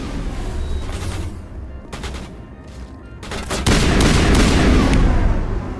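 Gunfire from a weapon in the shooter Mass Effect crackles in rapid bursts, building into a loud, sustained volley of shots and booms by the end.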